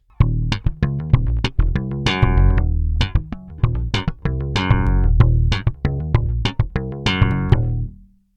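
Bass guitar through a Darkglass Microtubes 900 amp with a bright slap tone, cut low mids and boosted bass and treble, sharp percussive popped and thumbed notes in a quick funky rhythm, close and alone.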